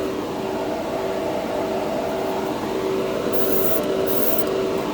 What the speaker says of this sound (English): I'm kind of pulling back on the airbrush quite a bit